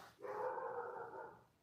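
A dog gives a single drawn-out bark or howl-like yowl at a moderate distance, lasting just over a second, with no talk over it.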